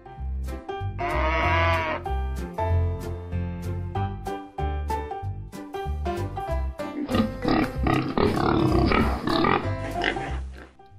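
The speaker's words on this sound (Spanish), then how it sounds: "Cerdo." Repeated grunting and squealing pig calls in bursts, loud and close, over a bouncy musical backing.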